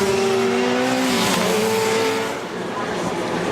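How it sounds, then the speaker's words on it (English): WTCC touring race cars sweep through the fast Curva Grande right-hander at Monza, engines roaring loud and steady with a falling pitch as they pass, a commentator talking over the noise. "So the cars sweep around the Curva Grande"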